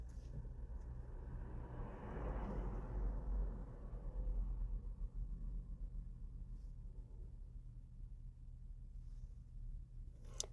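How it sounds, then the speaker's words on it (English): Road traffic sweeps past a parked car, a low rumbling pass-by that swells around the second to fourth seconds and then fades to a steady distant drone, heard from inside the vehicle. "so you can hear the traffic as it's going by me in the car."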